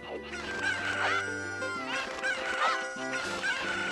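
Ocarina of Time N64 cucco chickens squawk and cluck in several sharp bursts over the game's backing music, loud and close.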